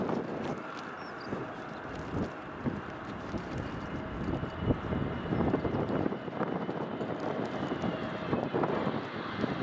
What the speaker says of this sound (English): Well, that wind is definitely picking up now.